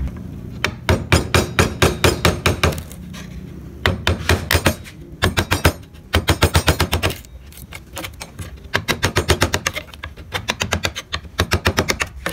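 A wooden mallet taps a gouge chisel carving a barong motif in wood, making loud, close, rapid bursts of sharp knocks in quick runs separated by short pauses.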